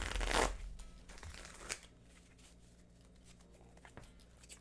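Playing cards shuffled on a table close to a microphone: one quick, loud riffle burst at the start, a brief softer flutter just after, then near silence.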